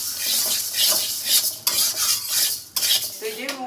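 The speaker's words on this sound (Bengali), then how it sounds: "মুগ ডালটা হালকা একটু ভেজে নেব।" Mung dal being lightly dry-fried and stirred in a pan for khichuri, a close, steady scraping of the spoon against metal with soft sizzling, broken by a few sharper clinks, no talk.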